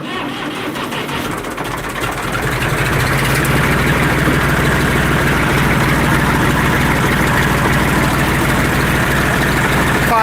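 A Kenmore oil burner engine runs at full throttle after starting, a loud, steady low engine drone that swells and holds continuously throughout, close to the listener.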